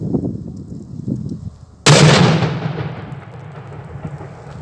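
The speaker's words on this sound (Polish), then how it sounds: "No bardzo ładny wybuch." A single loud firecracker bang cuts through quiet outdoor noise, its sharp crack trailing off into a fading rumble.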